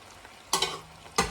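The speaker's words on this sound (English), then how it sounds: "So I'm in the middle of cooking gizzard stew now." Gizzard stew cooks in a pan, with two quick scraping stir strokes and a soft bubbling sizzle heard up close and otherwise quiet.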